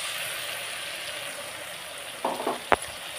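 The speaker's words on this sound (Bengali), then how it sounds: "এইবার যে ওই চারমগজ আর দই দিয়ে পেস্টটা করে রেখেছিলাম সেই পেস্টটা দিয়ে দেব" Spiced masala fries in oil for doi katla, with a paste of charmagaj and yogurt going in. A steady, moderate sizzle runs throughout, then a few sharp utensil clinks near the end.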